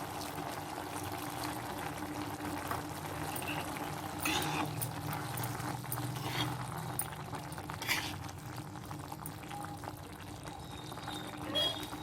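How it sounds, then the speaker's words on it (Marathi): Water is poured into an onion and coconut paste curry of cauliflower and potato in a pan, giving a quiet, ongoing trickle and bubbling with occasional clinks of utensils. "त्यानंतर आपण त्यामध्ये पाणी ॲड करून घेणार आहोत।"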